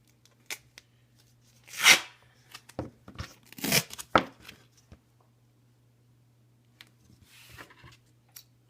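Duct tape is pulled and torn off a roll to cover a pen, giving several sharp ripping bursts close up, with a few small clicks and handling noises between them and quiet gaps.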